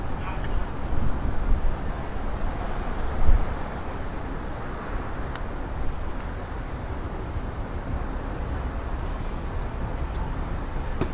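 Wind buffets a microphone outdoors on a Toronto street in steady low rumbling gusts for the whole stretch, with a brief thump partway through.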